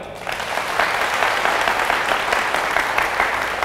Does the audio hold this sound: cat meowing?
no